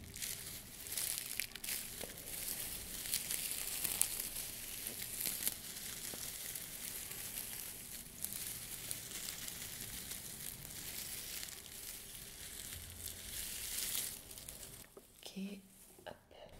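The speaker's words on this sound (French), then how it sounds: "Attendez, ça froisse." Crinkling and crumpling of paper or plastic during a scalp examination in a hair-clinic role-play, soft irregular rustles running throughout under quiet speech.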